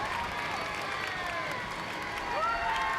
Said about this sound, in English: There's the lovely crowd here in Mirepoix